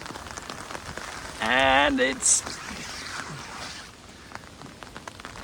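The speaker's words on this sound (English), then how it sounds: "it's raining" Steady rain patters down on a windy day over a large country garden plot, a continuous soft hiss with a voice talking briefly over it.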